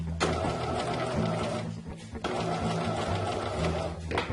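A sewing machine stitches fabric during point sewing, whirring steadily at close range and pausing briefly in the middle.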